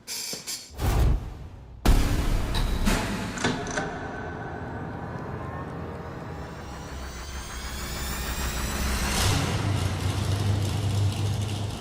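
A naturally aspirated thousand-horsepower engine on a dyno with dyno headers, T-bucket style, firing up with a loud start and then roaring in a sustained rising baseline pull.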